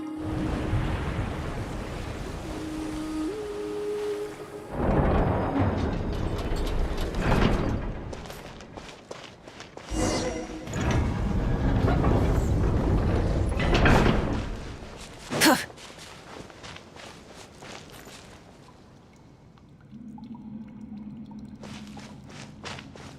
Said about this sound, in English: now turn on the drainage mechanism in front of the second sluice gate, and this chamber will become empty once again